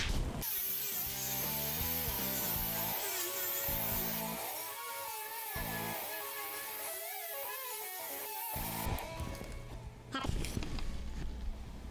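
A 4.5-inch angle grinder with a 60-grit sanding wheel polishes metal, giving a continuous loud, harsh whirring grind whose pitch wavers as pressure changes, then a rougher burst near the end.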